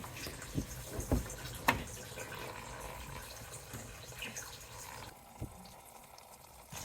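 Coolant drains from the radiator of a Honda J35A7 engine as a faint, steady trickle and splash of liquid, with a few soft knocks and clicks early on.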